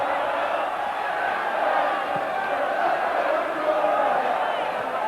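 A football crowd at a Bradford City versus Hull City match in 1981/82 sings en masse, a dense, steady roar of many distant voices that holds at an even level throughout.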